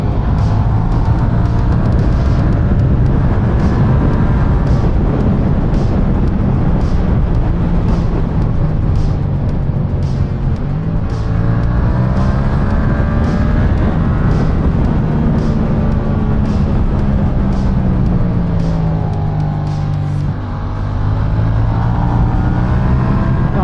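A Yamaha MT-07 motorcycle engine from 2017 climbs repeatedly through the revs toward the limiter while riding, loud and close with sweeping pitch rises and dips over steady wind roar.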